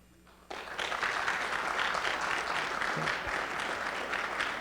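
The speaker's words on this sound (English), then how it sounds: "just by applause, do you agree with Governor Sununu" Audience applause at a 2016 radio political town hall forum. It starts suddenly after a quiet moment and holds as a loud, steady wash of clapping to the end.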